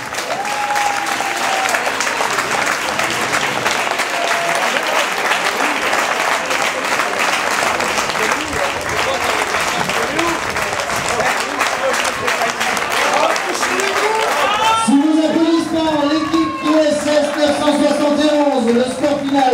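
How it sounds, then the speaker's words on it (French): Spectators applaud after the OSS 971 versus Barracuda match ends, a loud, sustained wash of clapping from the crowd with a voice talking over it throughout. "On peut les applaudir très fort."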